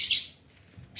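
Lovebirds of the violet colour variety chirping in a breeding cage, a bright high chirp at the start and another brief call at the end, close and fairly loud, with no talk.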